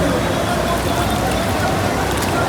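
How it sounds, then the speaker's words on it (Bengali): Steady, dense monsoon rain in Kolkata hisses continuously on surfaces, a broad wash of noise with no pauses. "আবার বৃষ্টি নেমে গেছে"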